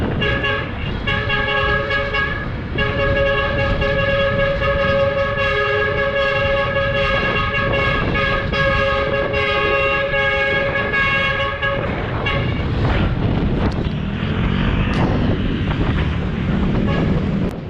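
A truck horn blares in long sustained blasts, then repeated honks, loud and close over steady road and wind rumble.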